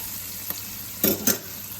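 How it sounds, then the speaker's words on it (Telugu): Onions fry in a pan after turmeric is added, a steady soft sizzle with two short louder bursts of stirring scrapes near the middle. "టర్మరిక్ వేసుకొని తిప్పేసుకొని ఆనియన్స్ ఫ్రై అయ్యేదాకా ఉంచుకోవాలి"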